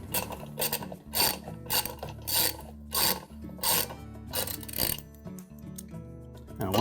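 Close, loud rhythmic ratchet clicking comes in repeated bursts as a bolt is turned to draw an LG washer's inner basket onto the spider assembly, with metallic grinding between strokes.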